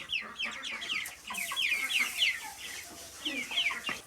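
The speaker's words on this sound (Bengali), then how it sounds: "দেখুন মুরগিগুলা কি সুন্দর লাগতেছে না?" A flock of home-farm chickens chatters and clucks in rapid overlapping bursts, fairly close and lively, with no clear voices.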